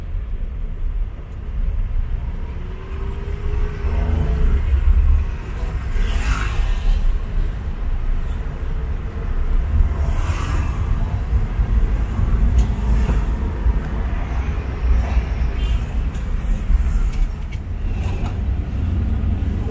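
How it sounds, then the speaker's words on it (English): Heavy road traffic beside Tabunok market in Talisay, a dense continuous rumble of cars and buses with passing engines swelling and fading and occasional creaks and rattles, without talk. "You can see that it's very traffic here because the SRP is closed, so most of the vehicles are here going to the south."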